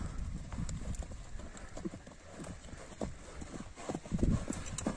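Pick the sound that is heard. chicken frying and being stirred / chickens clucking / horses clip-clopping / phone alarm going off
horses clip-clopping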